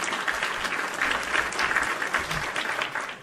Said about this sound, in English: I'll give you a little round of applause for that.